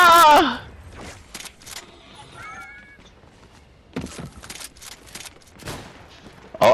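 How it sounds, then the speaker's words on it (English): Gunfire in a Fortnite trios match: several sharp, loud shots in scattered bursts and quick volleys, with a player's voice shouting over the first burst. "Oh, I got shot at."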